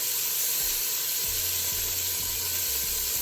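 Oxtail browning with soy sauce in a hot pan for Jamaican oxtail stew, a steady close sizzle and hiss that carries on throughout, with a few low knocks and stirring sounds beneath it.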